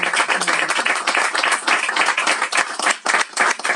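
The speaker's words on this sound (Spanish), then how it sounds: "Un aplauso para las dos." Audience applause for two speakers at a book presentation of 'Las vidas que no viví', close, lively clapping of a modest crowd, uneven and bright, filling the moment without talk.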